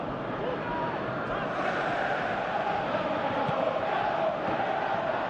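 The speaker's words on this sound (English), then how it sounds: "Crowd appreciates good football all round there." Stadium crowd in the eFootball video game, a continuous broad roar and murmur of many voices that swells slightly over the span and carries on without a break.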